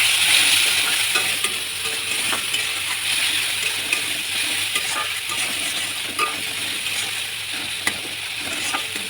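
Spice masala frying in hot oil while being stirred, a close, steady sizzle with scattered scraping clicks from the spoon against the pan, continuing throughout.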